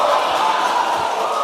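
Applause from an audience for a junior high school quiz team at a grand-finale quiz, a dense steady clatter of clapping held for a second and a half with no voices over it.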